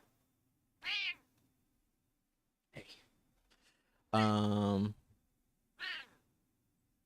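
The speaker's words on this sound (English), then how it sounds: "my cat is here. She wants some attention." A house cat meows for attention: a short meow, then a long, loud drawn-out one and a final shorter cry, with brief human speech in between in an otherwise quiet indoor room.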